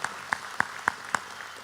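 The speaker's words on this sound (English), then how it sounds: "If we can give her a round of applause so I can get some brownie points." At a State of the City gathering in Manvel, a handful of evenly spaced, distinct claps ring out in a quick, steady rhythm over a faint room hush, sounding like sparse applause rather than a full crowd.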